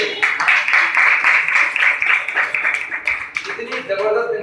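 An audience at a Vestige business plan seminar claps and applauds steadily for several seconds, the sound dense and moderately loud, with a voice briefly heard near the end.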